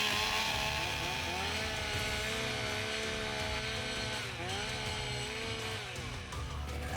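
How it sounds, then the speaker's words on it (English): Several chainsaws rev and idle together at a Canadian timbersports championship, their pitches rising and falling in overlapping revs, loud and close, with no talk. "Warm up your saws."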